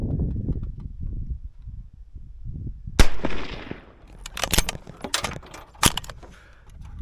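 A single sharp, loud rifle shot rings out during outback camel culling, followed by a series of crisp metallic clicks and clanks from the gun's action, with low talk and wind before the shot.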